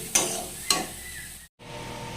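Ginger paste and tomato paste are stir-fried in a pan for lau kofta. Two quick scraping stir strokes cut over a soft, steady sizzle, with a brief break in the sound near the end.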